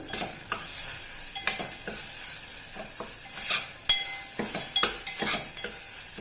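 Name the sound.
stirring frying chutney mixture with asafoetida in pan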